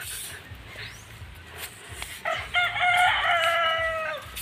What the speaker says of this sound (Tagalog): Hoy, manok!